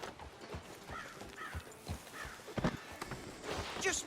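Horse hooves clip-clopping at a steady walking pace in Red Dead Redemption 2, mid-distance, with outdoor ambience and occasional other game sounds layered in.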